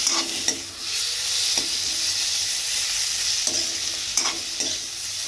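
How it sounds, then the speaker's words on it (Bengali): Potato, eggplant, bitter gourd and pumpkin frying together in a pan give a steady close sizzle, broken by a few sharp scrapes and clicks of stirring; no one speaks. "এখানে আলু বেগুন উচ্ছে আর কুমড়ো দিয়ে একটা ভাজা ভাজা তরকারি হচ্ছে"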